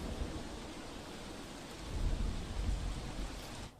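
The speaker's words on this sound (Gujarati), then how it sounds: "અવિરત વરસાદથી નવસારી શહેર જળમગ્ન થઈ ચૂક્યું છે।" Heavy, continuous rain pours over flooded Navsari city as a dense, unbroken roar of falling water with faint low rumbles. It is fairly quiet overall, and no one speaks.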